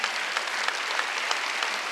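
Steady applause from a church congregation at a Wednesday worship service, dense and even throughout with no voices.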